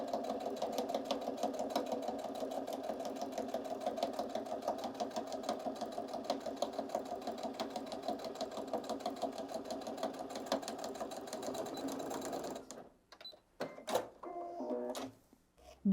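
A sewing machine stitches a fabric strip onto a toiletry bag in one long, even run of rapid needle strokes lasting about twelve seconds. It then stops, leaving a few clicks and handling noises.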